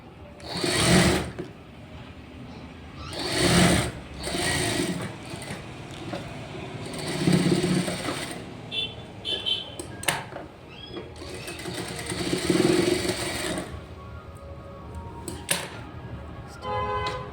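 A computer embroidery sewing machine stitches blouse fabric in repeated loud mechanical bursts of rapid whirring and clatter, with quieter ratcheting between runs.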